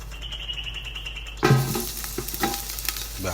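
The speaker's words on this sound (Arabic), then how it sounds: "وحطينا شوي زيت عشان نحمس البصل فيه" Sliced onions drop into hot oil in an iron pot for chicken mandi. After a quiet hiss, a sudden loud sizzle erupts and keeps crackling up close, with no talking.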